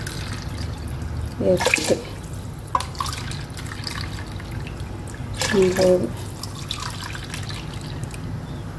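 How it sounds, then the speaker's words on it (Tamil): Two short pours of water splash from a tumbler into a pot, a few seconds apart. Soft drips come between them, and a person counts aloud over the quiet kitchen background. "இன்னும் 2 டம்ளர் தண்ணி ஊற்றிக்கலாம்"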